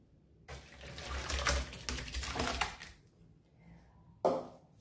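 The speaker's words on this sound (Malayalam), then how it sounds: "ടാപ്പ് തുറന്ന് നല്ലതുപോലെ വെള്ളം ഒഴിച്ചാലേ ആ പശമയം പോകത്തുള്ളൂ" Tap water gushes steadily over boiled tapioca being rinsed of its starch, a broad splashing rush that stops abruptly midway, followed by a brief fresh burst of running water near the end.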